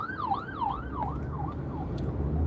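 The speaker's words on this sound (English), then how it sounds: "there's an ambulance going by" An ambulance siren passes by, its wailing tone rising and falling steadily and then fading out over a constant low traffic rumble.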